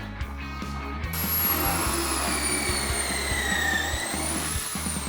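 A drill whines while boring pocket holes in wood for a porch swing. Rapid ratcheting clicks run under a high motor whine that shifts in pitch, close and continuous.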